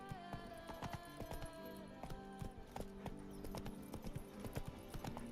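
Horse hooves clip-clop in a steady rhythm in a video game, the walking beats clear and close for several seconds with no talk over them.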